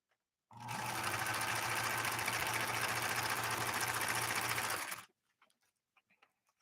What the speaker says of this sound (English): Going to try to do a blind hem now. Here we go. It's going to go pedal to the metal.